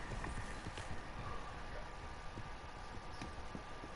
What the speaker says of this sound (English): Ah, oh, they're just horses